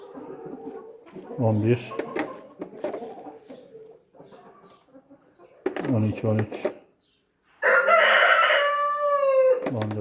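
A flock of about eighteen hens clucks and squawks nearby during egg collection, in uneven bursts, with a brief pause before a louder drawn-out call.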